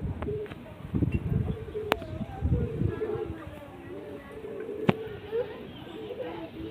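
Pet pigeons coo in a steady run of low, rolling calls, joined by a couple of sharp clicks and faint background voices.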